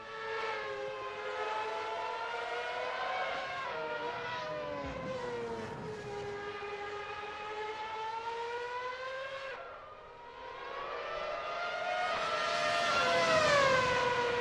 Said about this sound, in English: Oh, these cars sound good.